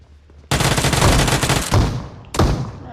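Shotgun blasts in the mobile battle-royale game PUBG Mobile: a loud, sharp report followed by a rolling echoing tail, then a second shorter burst and a third blast near the end, all close and heavy.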